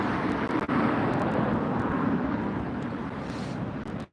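A China Air Cargo jet at LAX airport fills the scene with a loud, steady broadband roar of engines that holds for several seconds before cutting off.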